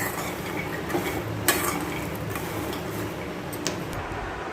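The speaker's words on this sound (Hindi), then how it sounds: "मैं अपनी मोस्ट फेवरेट मखाने फ्राई कर रही हूँ" Makhana (fox nuts) frying and being stirred in a pan, a steady soft sizzle with a few clinks of a spoon against metal, close and continuous with no talking.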